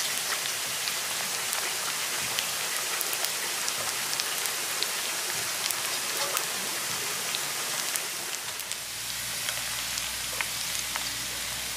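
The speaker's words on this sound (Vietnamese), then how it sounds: "Mà chả thấy chiên hấp dẫn lắm nè." Fish cakes for bánh canh chả tép frying in hot oil give a steady, dense crackling sizzle close by, running continuously with no voices.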